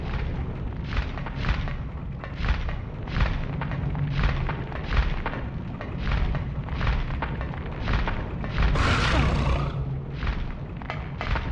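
Gunshots fired at the first boss in Silent Hill, a steady series of heavy, booming shots repeating about every half second, loud and close, with a brighter burst of noise near the end.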